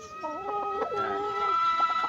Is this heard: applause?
no